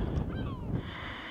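Seagulls call outdoors over steady wind noise, with a couple of thin, high honking cries sliding downward in pitch at moderate distance.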